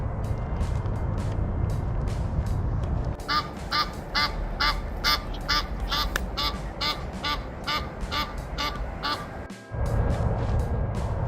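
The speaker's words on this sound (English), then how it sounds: "There are the scovy ducks." Muscovy ducks quack in a rapid, steady series of raspy calls lasting several seconds, close by, over a low background rumble, at a park near Fort Lauderdale, Florida.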